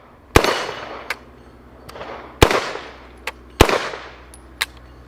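Rifle fire finishing a magazine, three loud sharp shots spaced about a second apart outdoors, each trailing off with echo, with fainter distant cracks between them.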